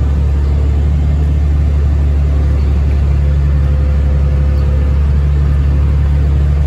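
A feed truck runs on a dairy farm barn alley while unloading feed for black-and-white dairy cows, its steady engine rumble and low drone continuous and loud throughout, with no voices.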